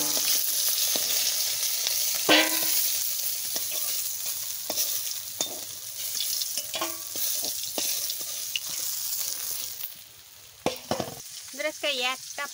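Fish frying in a pan for a papaya and fish curry, with a steady sizzle throughout and intermittent scraping and clinking of a utensil stirring, close and moderately loud, briefly quieter near the end.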